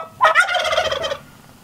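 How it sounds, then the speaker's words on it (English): Turkeys near a pole barn let out one loud, close gobble, a rapid warbling burst lasting about a second before fading, with no voices. "Stinking turkeys."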